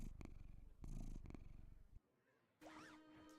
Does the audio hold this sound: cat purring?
yes